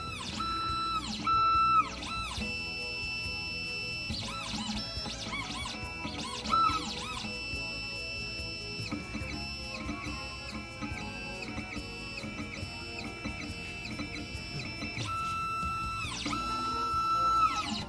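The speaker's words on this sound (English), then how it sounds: "So now I'm gonna decode the key and then show how the machine cut it." An Xhorse Dolphin key cutting machine decodes an HU66 car key, a steady electric motor whine and whirring with stepping mechanical tones and small clicks as the probe moves, continuous throughout.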